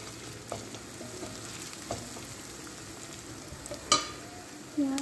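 Onions fry with garam masala and green chillies in a steady sizzle, broken by a few sharp spatula clinks and scrapes against the pan, with a louder knock near the end.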